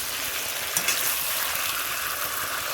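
Potatoes frying in a chicken curry being stirred and browned in a pan, a steady dense sizzle throughout with a brief scrape of the spoon, close and fairly loud, no voices.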